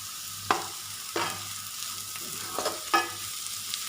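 Vegetables for veg noodles sautéing in a pan, with a soft steady sizzle and several sharp scrapes of a spatula stirring at irregular intervals, close and fairly quiet.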